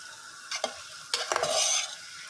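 Ingredients for a Kuttanad-style country duck stew are stirred in a pan: two short scraping strokes over a faint sizzle, close and clear.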